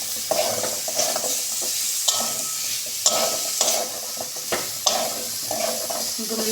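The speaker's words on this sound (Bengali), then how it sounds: "এবার ভালো করে সবজিগুলোকে কষাবো" Vegetables and tomato sizzle in a spiced masala while a spatula scrapes and stirs the pan in repeated strokes. The cooking is close and steady, with no talking.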